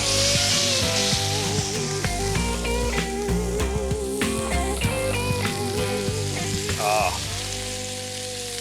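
Burgers sizzling loudly and steadily on a cast iron grill on a patio, a constant crackling fry with scattered pops, while someone talks over it throughout.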